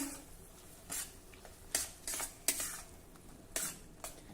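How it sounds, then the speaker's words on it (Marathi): Vegetables stirred with ground peanut paste in a pan over a medium-low flame, bitter-gourd-type monsoon vegetable: repeated scraping and clinking of a spoon against the pan in irregular bursts, fairly close, with a faint sizzle underneath. "आता हे वाटणासह आपल्याला हे साधारण तीन ते चार मिनिटांसाठी परतून घ्यायचं आहे"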